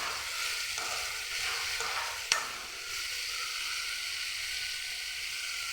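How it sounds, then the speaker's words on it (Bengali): Soybean chunks fry and sizzle in a hot pan with a spice powder, giving a steady close hiss throughout and a brief clink of stirring near the middle. "আবার এটাকে ভেজে নেব।"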